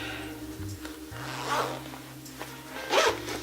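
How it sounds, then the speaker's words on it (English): A zipper on a waist trainer being pulled, with a few quick rasping bursts standing out against a steady low hum, close by. "It has like a zipper"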